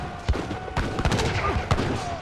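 Falcon cannons in Age of Empires III firing in a battle line, several sharp close booms in irregular succession over a busy battle din, with a voice talking over it.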